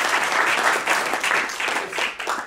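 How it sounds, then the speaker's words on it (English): Audience applause at a badger meeting, a steady burst of many hands clapping close by, fairly loud and continuous for the whole stretch with slight swells. "let's give those guys a round of applause."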